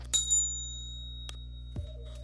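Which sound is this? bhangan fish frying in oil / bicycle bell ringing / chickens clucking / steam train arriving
bicycle bell ringing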